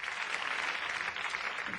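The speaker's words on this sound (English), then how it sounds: "Just applause, isn't it?" Steady, dense applause from a crowd, fairly distant and even throughout, with no voices standing out.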